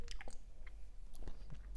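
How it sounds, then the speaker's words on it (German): Biting and chewing a Monster Wunderball lollipop candy on a stick, with a few close, crisp crunches and wet mouth sounds at irregular moments, quiet and without talk. "Also man leckt da dann wirklich dran und kann irgendwie reinbeißen"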